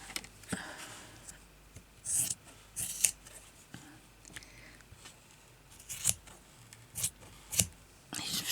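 Scissors cutting fabric for a crazy patchwork bag, with a few quiet separate snips and rasping cuts spaced across a hushed room, close by and soft.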